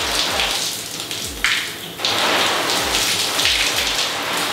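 Water sprayed straight up comes down like heavy rain and patters loudly and steadily on an umbrella hat up close, with bursts of spray swelling and fading.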